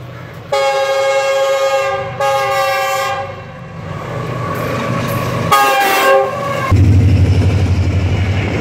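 A freight train led by two GU40 locomotives approaches near Karachi's Malir rail bridge, sounding several loud, sustained horn blasts separated by short gaps, then giving way to a heavy, close rumble of wagons passing.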